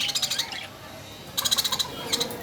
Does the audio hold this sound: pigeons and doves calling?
yes